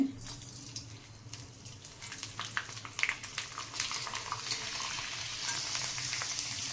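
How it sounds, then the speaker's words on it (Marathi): Rice papad pieces sizzle and crackle in hot oil in a kadhai, a steady frying hiss with scattered pops that grows denser over time, with no talking. "तर आता मी तळून दाखवते."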